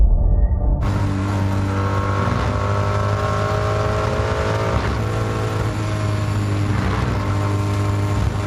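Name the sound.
DTM race car onboard lap engine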